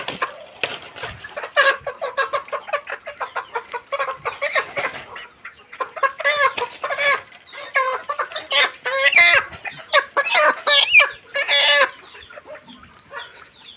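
Layer hens in a poultry shed, some with swollen, watery eyes, cluck steadily in quick, busy overlapping bursts, close and moderately loud, with an occasional crow among them.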